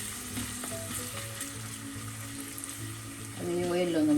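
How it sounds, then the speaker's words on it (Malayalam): Ginger and garlic fry in hot oil with a dense, steady sizzle and stirring, the hiss growing louder toward the end, with faint background tones. "ഇത് വന്ന് ചൂടാക്കുമ്പോൾ ഇഞ്ചിയും വെളുത്തുള്ളിയും ചേർക്കാം."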